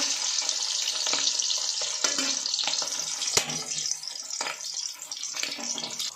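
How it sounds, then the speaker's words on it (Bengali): Hilsa fish fries in oil in a pan, giving a continuous bright, hissing sizzle with scattered small crackles and pops close up. "মাছটা হালকা করে আমরা ভেজে নেব"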